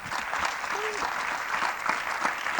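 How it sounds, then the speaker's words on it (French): Warm, sustained applause from a conference audience after a talk on freeing the education system, a steady wash of many hands clapping at moderate distance, with a brief vocal sound in the mix. "c'était le moment où tout le monde a applaudi"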